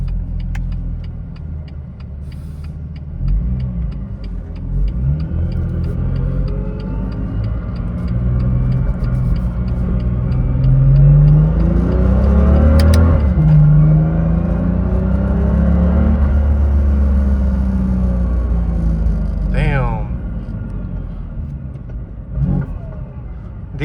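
A BMW with a DCT transmission on poly transmission mounts accelerates nearby, its engine rumbling and climbing in rising sweeps while a high straight-cut gear whine rides over it, with a brief shift-like break near the end.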